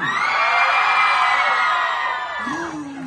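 A large outdoor crowd at a pride event screams and cheers in one loud sustained roar, shrill whoops riding on top, tapering slightly near the end.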